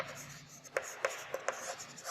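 Chalk or pen tapping and stroking on a classroom board during a maths lesson, a few short sharp marks in an uneven rhythm, close and fairly clear, with no voices.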